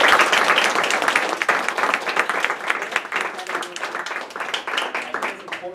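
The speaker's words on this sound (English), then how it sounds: "And can we give them another round of applause?" Sustained applause from an audience at a town hall meeting on police abuses in Maryland, dense clapping filling the room steadily throughout with crowd noise.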